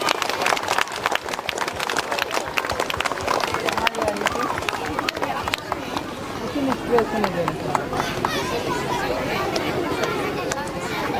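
Dense crowd applause at a school annual function in Khunti, a steady wash of many hands clapping near and loud, with a voice speaking over it and busy crowd chatter running underneath throughout.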